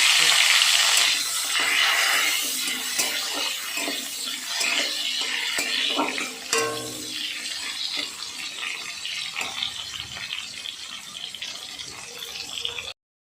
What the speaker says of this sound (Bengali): কয়েকটি আমচুর ধুয়ে ওই তেলের উপরে দিয়ে আমি মেরে নিচ্ছি